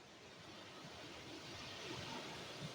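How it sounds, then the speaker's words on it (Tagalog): Strong ocean surf during stormy weather rolls in as a continuous broadband roar, slowly swelling in loudness, with wind noise buffeting the microphone and no talking. "talagang malakas mga tropa yung alon"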